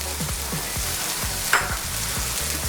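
Onions and tomatoes sizzle steadily in a pan for a Goan prawn curry, with a spoon stirring in rhythmic scrapes and one brief louder clatter, no voices.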